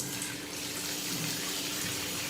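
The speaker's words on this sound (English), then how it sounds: "I'm just running water over just to kind of rinse it off and everything" Water from a kitchen tap runs steadily over quinoa to rinse it, a close, even splashing hiss with no one talking.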